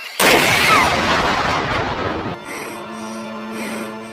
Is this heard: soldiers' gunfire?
yes